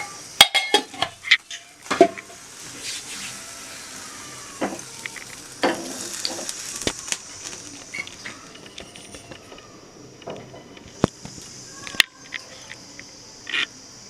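Crackling sizzle of mustard seeds and curry leaves in hot ghee, with sharp irregular pops of the seeds and occasional clinks of a utensil against the pan.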